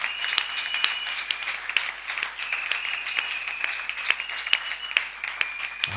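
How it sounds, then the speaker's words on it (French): A church congregation applauds in a steady round of clapping, dense and moderately loud, with individual sharp claps standing out throughout and no voices over it. "Si tu as compris, tu applaudiras la parole."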